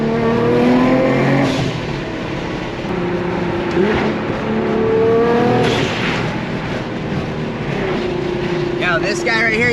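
A car engine revs loudly as it drives past, rising and swelling over several seconds amid steady road and crowd noise, with people talking around it.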